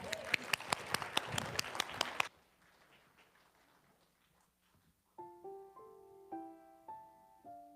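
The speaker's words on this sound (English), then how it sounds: "Let's give him a round of applause." An audience claps for a singer at a service: a short burst of fairly close, brisk applause that stops abruptly, then a quiet room before soft sustained piano notes begin.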